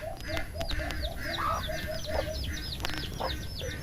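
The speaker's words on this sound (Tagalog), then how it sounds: "Sisiw pa si Tanggol, di ganito ko na, pinasok ko sa loob" Chickens cluck repeatedly in a cage alongside a captive wild junglefowl, with steady close clucking over busy background bird calls and rustling.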